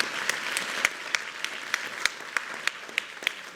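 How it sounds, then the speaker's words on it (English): Sparse, scattered applause from a small audience at a hospital heart health forum, individual claps standing out at a fairly steady pace over a quiet room, moderately faint and without talk. "So give him a round of applause, please."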